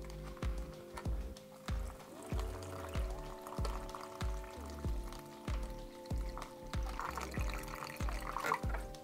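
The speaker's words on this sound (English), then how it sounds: "All right, let's add some water." Water poured into the drink bag of a 2011 Canadian IMP ration, a rhythmic glugging stream with repeated bursts and a pitch that climbs as the bag fills, close and fairly quiet.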